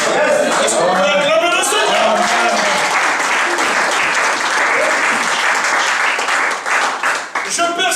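Congregation at a church convention breaking into loud, sustained applause and cheering that fills the room for the whole stretch, dipping briefly near the end.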